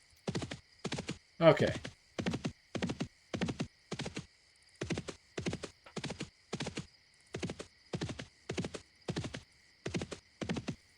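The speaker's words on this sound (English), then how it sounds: "Dude, give me a horse." A horse in Dark Age of Camelot clops along in a steady rhythm of regular hoof strikes, with one short neigh near the start, and a brief spoken word early on.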